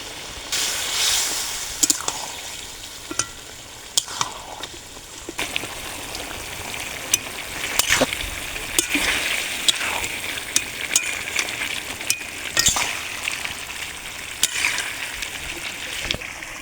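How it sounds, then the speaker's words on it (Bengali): Chicken pieces and peas fry with ground spice paste for a chicken curry, an even hissing sizzle broken by scattered sharp pops and stirring knocks throughout, with no talk. "মশলা কষানোর সঙ্গে সঙ্গে মাংসটাও কষানো হয়ে যাবে"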